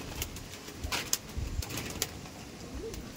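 Pigeons of an older breeding line kept for sale, with soft low coos amid faint rustling and light tapping in a quiet loft, no voices.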